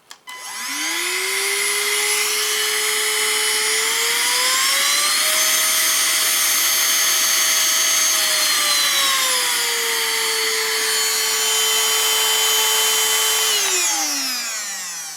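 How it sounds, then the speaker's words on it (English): A Greenote GSC40 rechargeable cordless stick vacuum whines up to speed, holds a steady motor drone, shifts pitch up and back down, then spins down at the end. "if I turn this on, you'll be able to hear what it sounds like"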